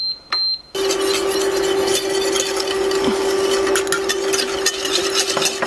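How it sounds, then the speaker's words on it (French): Sugar and agar stirred into citrus jelly in a pan, a close, steady scraping swirl with faint clinks over a constant low hum, after a brief tap at the start. "je mélange mon sucre et l'agar"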